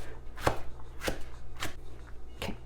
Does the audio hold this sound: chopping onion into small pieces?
yes